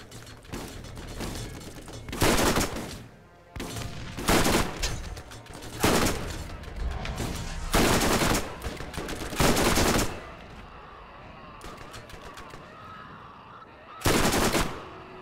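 Repeated bursts of automatic gunfire from the video game Borderlands, loud and close, coming in roughly six clusters with short gaps between, mechanical clatter underneath, and no voices.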